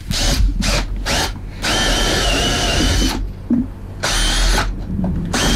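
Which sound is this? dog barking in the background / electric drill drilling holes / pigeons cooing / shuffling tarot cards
electric drill drilling holes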